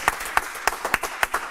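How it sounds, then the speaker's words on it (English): Small group in a studio setting clapping sparsely, with individual claps spaced irregularly and heard close and moderately loud. "Round of applause, everyone"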